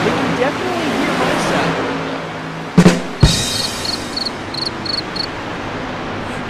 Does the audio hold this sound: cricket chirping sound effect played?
yes